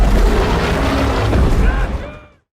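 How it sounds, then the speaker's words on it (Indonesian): Heavy booming missile fire, gunfire and explosions in a dense cinematic mix from the 2022 film Troll, loud and continuous before fading out abruptly at the end. "Misil, tembakan, pokoknya semuanya lah dilakukan."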